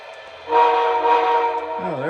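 An O scale model train whistle sounds: a steady, tonal toot after a short pause, then a wavering low tone as it fades.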